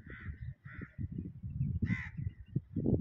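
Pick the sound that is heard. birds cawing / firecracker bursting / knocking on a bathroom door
birds cawing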